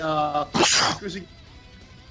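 A sharp, loud sneeze bursts out close by right after a voice speaks briefly, followed by quieter murmured talk.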